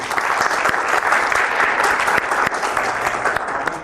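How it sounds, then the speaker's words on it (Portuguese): An audience applauds after a tech talk on big data with Spark and R on Azure, a full, steady burst of many hands clapping at close range, alone with no speech on top. "uma salva de palmas primeiro"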